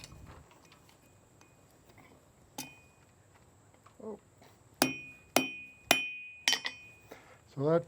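Hammer blows on hot metal during forge welding, about six sharp ringing clanks in an uneven rhythm near the end, close and loud after a quieter stretch with a few faint taps.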